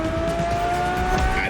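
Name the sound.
Ferrari car engine in video game The Crew Motorfest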